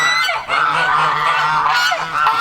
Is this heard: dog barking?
no